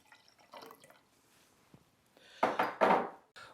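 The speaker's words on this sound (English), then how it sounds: "Now I'm going to put in there 3 ounces of pineapple juice." Pineapple juice pours into a cocktail shaker, a close liquid splash in two loud bursts after faint dripping and clinks.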